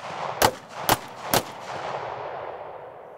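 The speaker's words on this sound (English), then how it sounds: "He's going to fire." Three sharp, loud handgun shots fired about half a second apart during a close retention shooting drill, each cracking close by before a fading ring.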